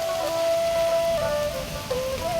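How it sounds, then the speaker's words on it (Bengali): Rain falling outdoors on a windy day with sun out, a steady soft patter running throughout with a thin, wavering tone above it. "অবশেষে বৃষ্টি চলে আসলো আমাদের মাঝে। তো বৃষ্টি হচ্ছে"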